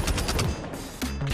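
Rapid automatic gunfire in Call of Duty Mobile hits the player, loud and close, a dense string of shots followed by a brief pause and another burst.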